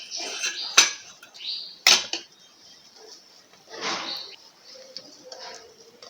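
A knife cutting through an Oreo dorayaki cake on a plate, a few sharp clinks and scrapes at close range separated by quieter gaps, with faint shuffling.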